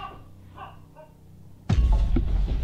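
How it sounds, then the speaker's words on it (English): A dog gives a few faint whining, whimpering cries, then a louder, heavier bark-like burst breaks out nearby, indoors at an old inn. "Why does it sound like the dog saying, help, help?"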